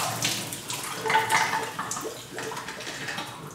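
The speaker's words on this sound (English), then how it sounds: "Now that the negatives have been sitting in the photo flow solution, we're going to pour all that out" Photo flow solution poured out of a color film developing tank, a continuous splashing, gurgling stream of liquid draining into a sink at close range.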